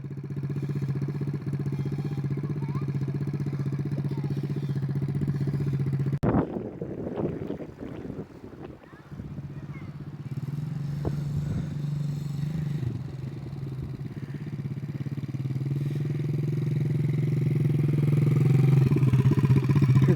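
A 50cc dirt bike engine runs close by with a steady low drone, dips briefly amid clatter and wind buffeting, then rises as the throttle opens toward the end.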